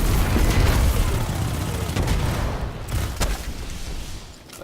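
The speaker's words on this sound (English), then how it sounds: "This SMG is tearing them up" Rapid SMG fire in Destiny 2, a loud dense rattle of shots with a few sharper pops, fading slightly toward the end.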